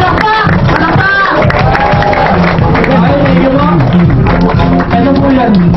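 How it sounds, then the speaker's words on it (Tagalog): A crowd at a VMobile business presentation claps loudly and continuously amid chatter and shouting, with a dense, noisy wash of hands and voices throughout. "Palakpak! Palakpak!"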